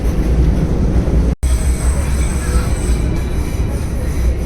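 A steady, loud rumble of a train running on rails, with a brief dropout partway through and faint high squeal above the roar.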